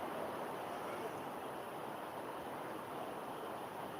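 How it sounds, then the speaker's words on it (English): A small waterfall splashes in a steady, even rush of white water, continuous and close with no pauses and no voices. "There is rather nice little waterfall where I am now."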